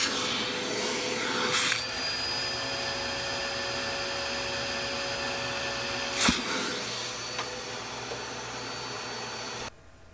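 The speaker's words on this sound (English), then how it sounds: "then use a vacuum cleaner to suck it underneath" A vacuum cleaner runs with a steady high whine while sucking ink through an HP 63 printer cartridge, with a couple of brief sharp bursts, before cutting off abruptly near the end.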